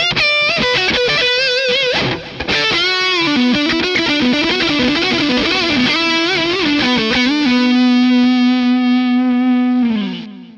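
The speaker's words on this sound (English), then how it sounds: "we're going to move over to the neck position for some rock-infused blues." Electric guitar on the neck pickup through an Orange Dark Terror amp with delay, playing a rock-infused blues lead of bent and sustained distorted notes, ending on a long held note that fades.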